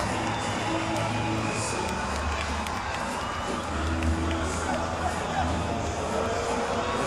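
Cricket crowd cheering and applauding a victorious team at a Test series celebration, a broad continuous roar with scattered shouts, distant and steady under the noise.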